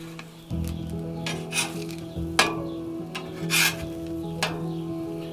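A metal spatula scrapes and flips eggs on a hot Blackstone griddle, several gritty scrapes and clicks over a steady griddle hum, close up, no voices.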